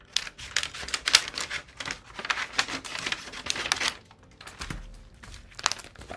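Scissors snip through a page cut from a book in quick rapid bursts of crisp paper cutting and crinkling, close and clear, pausing briefly before a final few snips.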